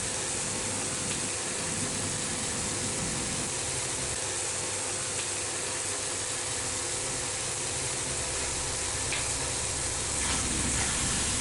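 Onion masala with salt sautéing in a pan for channa masala, a steady hiss of frying that runs unbroken and fairly close, with no talking over it.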